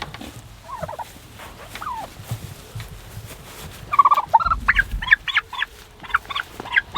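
Turkeys gobble in a rapid, rattling burst, several birds calling over one another nearby, rising to a loud chorus after quieter scattered sounds.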